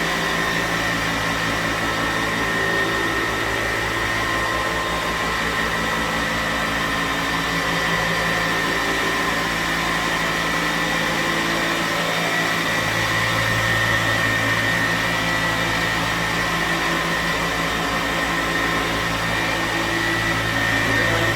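A machine polisher works over the front panel of a car body during detailing, giving a steady, unbroken motor whir that holds an even pitch and loudness throughout, with a brief dip partway before it resumes.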